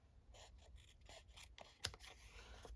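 Scissors snip through paper while trimming a postage-themed library-style pocket for a journal, a few quiet cuts with one sharper close snip amid soft paper rustling.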